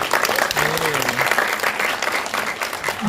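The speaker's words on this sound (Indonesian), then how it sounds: "Sekali lagi dong, tepuk tangan dong buat almarhum" A press conference audience applauds the late Bang Gary, steady dense clapping throughout while a voice speaks briefly over it.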